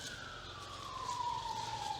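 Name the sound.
siren from traffic on a busy road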